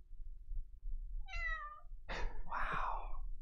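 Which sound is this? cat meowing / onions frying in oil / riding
cat meowing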